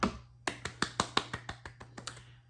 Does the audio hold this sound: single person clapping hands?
yes